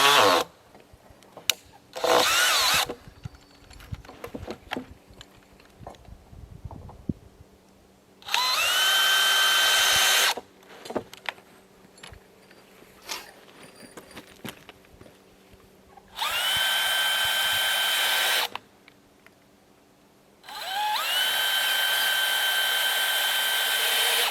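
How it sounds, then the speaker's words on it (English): A power drill drives 6-inch timber lock screws into yellow cedar foundation beams for an A-frame cabin, in three loud sustained whirring bursts of about two seconds each, separated by quiet stretches with scattered knocks and clatter. "these are yellow cedar, and we're going to fasten them with the 6-inch timber lock screws."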